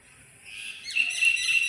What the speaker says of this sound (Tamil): அந்த குருவி காக்கா கத்துறதெல்லாம் பார்த்துட்ருக்கா